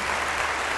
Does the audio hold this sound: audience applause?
yes